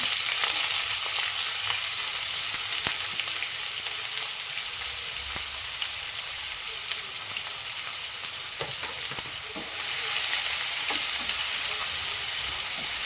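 Chopped onion with bay leaf, mace, cloves, cardamom and cinnamon fries in a pan for okra curry. A steady, close sizzle runs throughout with occasional stirring clicks, and it grows slightly louder near the end.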